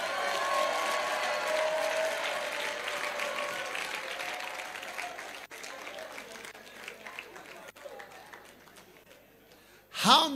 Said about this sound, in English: Clap for those who got up.